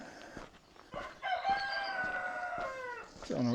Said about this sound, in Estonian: Lehmad, kanad, kukid kirevad